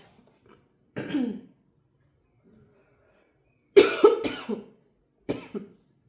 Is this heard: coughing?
yes